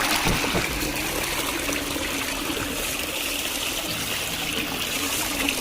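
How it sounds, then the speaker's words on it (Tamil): Tap water runs steadily into a kitchen sink for washing chicken, a continuous close trickle and splash with no talking. "தண்ணி வந்துட்டுருக்கு, காட்டுறேன் உங்களுக்கு"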